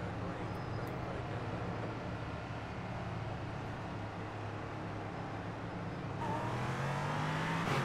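Race cars in a video game rolling off behind the safety car at the race start, a steady engine drone that swells into louder revving near the end, heard alone without talking.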